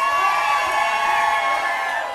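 A crowd at a club bassline night cheers and shouts, a loud, steady wall of whoops and yelling that holds without a break.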